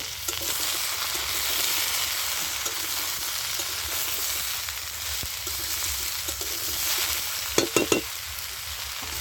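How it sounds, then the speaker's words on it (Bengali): Chopped spinach stalks and mixed vegetables fry in a pan, giving a steady close sizzle for the whole stretch, with a few brief scraping stirs near the end. "তো ঢাকনাটা খুলে আমি সবজিগুলো আবার একটু নেড়ে দিচ্ছি।"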